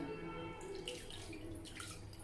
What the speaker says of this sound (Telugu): వాటర్ పోసుకున్నానండి